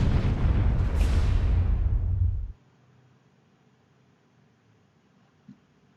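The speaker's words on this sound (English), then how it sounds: "There, the flammable hydrocarbon mixture violently exploded." A violent explosion of a flammable hydrocarbon mixture at the ESP of the Torrance refinery: a loud, sustained roaring blast that cuts off abruptly, leaving faint quiet background with one small later knock.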